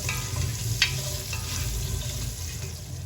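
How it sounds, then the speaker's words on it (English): Onions fry in a pan for vegetarian sambar with asafoetida, a steady close sizzle with a brief stirring scrape partway through. "fry this a little until your onions get translucent"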